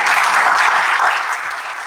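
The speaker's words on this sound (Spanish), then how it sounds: "Recibámoslos con un fuerte aplauso." Loud, dense audience applause fills the hall at a religious freedom summit in Santander, Colombia, steady and sustained before tapering slightly near the end.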